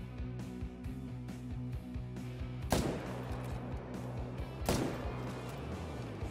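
Two sharp, loud rifle shots about two seconds apart ring out in a moose hunting video game, over steady game music and ambience.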